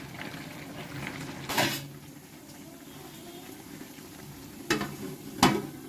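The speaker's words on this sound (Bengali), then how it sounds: "এই পেঁয়াজগুলো কিন্তু আমি দিয়ে দিচ্ছি।" Onions dropped into a pan for frying, with a quiet background sizzle and a few sharp clatters of a spoon or utensil against the pan.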